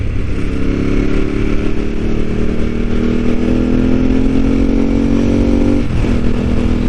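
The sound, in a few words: Ducati 748R motorcycle being ridden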